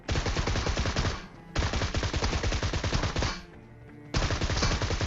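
Gunfire in PUBG on the Erangal map comes as loud, rapid automatic bursts, three long strings of shots close up, separated by short pauses.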